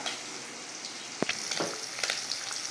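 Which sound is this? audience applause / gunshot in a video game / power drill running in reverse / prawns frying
prawns frying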